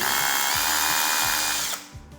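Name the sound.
INGCO power drill running in hammer drill mode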